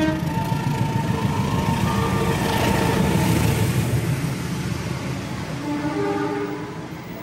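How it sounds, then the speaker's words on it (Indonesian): The Ciremai passenger train rumbles loudly through Cikampek station, a steady wheel-and-rail roar with tonal horn or brake sounds that rises in the middle and then eases slightly. "Kereta api Ciremai telah tiba di stasiun Cikampek."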